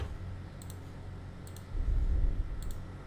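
Mouse double-clicks on a Windows computer while opening a downloaded zip file, heard as three faint, crisp click pairs spaced about a second apart over a low steady hum.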